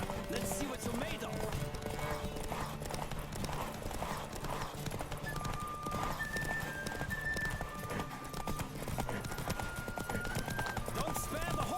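Horse hooves clip-clop steadily through a fast race in The Witcher 3, with occasional neighs, game music, and a voice talking over the hoofbeats throughout.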